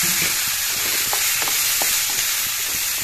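Pumpkin pieces fry in a pan with coriander and cumin powder, giving a steady close sizzle with scattered small crackles and stirring clicks throughout.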